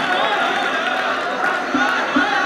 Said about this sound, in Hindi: जोरदार तालियां साथियों, जोरदार तालियां एक बार बेहतरीन नज़्मों के लिए।